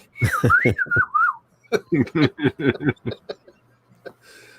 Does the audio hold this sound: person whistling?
yes